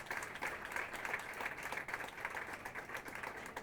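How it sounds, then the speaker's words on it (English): Steady, faint applause from a pageant audience for the entertainers, a dense continuous wash of clapping at a distance with no talk over it. "Now we're going to give all of these wonderful entertainers a nice round of applause."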